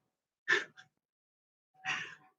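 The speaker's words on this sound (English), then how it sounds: "He's clearing his throat really loud." Two short, loud throat-clearing bursts, the first a sharp rasp with a small follow-up, the second a longer gravelly hack, in near silence.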